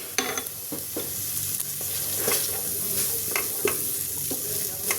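Onion sizzling in a pan alongside garlic and ginger paste, a steady close frying hiss punctuated by repeated scraping stirs and spatula knocks, with no talking.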